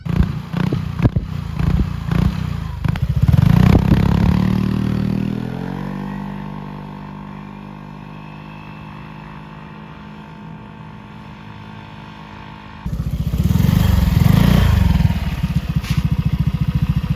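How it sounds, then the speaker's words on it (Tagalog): A motorcycle with a MOKOTO pipe fitted with a silencer runs with a low, muffled exhaust note, revving up then settling into a steady idle before rising again, fairly close and moderately loud. "parinig ko sa inyo yung tunog ng naka-silencer"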